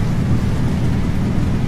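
Stormy weather in an 18-wheeler trucking video game: a steady, heavy low rumble of thunder and rain, constant and fairly loud, with no talking.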